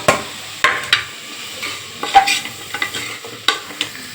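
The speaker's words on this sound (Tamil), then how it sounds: "இப்போ நம்ம கலந்துக்கலாம் வாங்க." A spoon stirs frying kurma curry with potato in a pan, giving sharp intermittent scrapes and clacks over a soft sizzle, with no talking.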